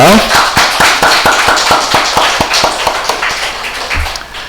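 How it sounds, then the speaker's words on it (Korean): Church congregation at a Sunday service clapping to welcome two guests, a quick, rhythmic run of claps that tapers off near the end. "우리 잘했다고 또 와주신 우리 두 분께 박수로 환영합니다"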